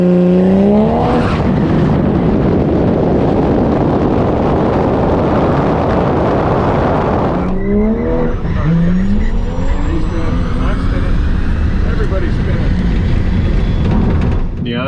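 A drag race car spinning its wheels on a dirty track, engine screaming loud and close with rising revs and tire squeal, then a gear change and further strained acceleration, wind buffeting the microphone throughout.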